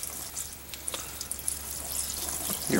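Water poured into a container holding resin pieces, a soft steady trickle and splash heard close up and alone, with small drips, no voices.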